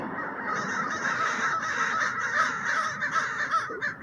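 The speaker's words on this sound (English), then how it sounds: "I heard a call by a crow. It's kind of a honking." A crow in an urban park in Portland, Oregon gives repeated honking calls resembling a Canada goose, sustained and fairly loud over steady outdoor background noise, with no talking.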